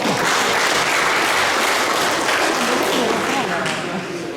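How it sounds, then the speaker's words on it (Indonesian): Workshop participants in a training hall give sustained applause, a thick, even roar of many hands that fades slightly at the end, with murmured voices mixed in. "Kita berikan tepuk tangan."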